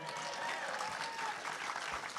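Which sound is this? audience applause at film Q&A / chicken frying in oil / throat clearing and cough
audience applause at film Q&A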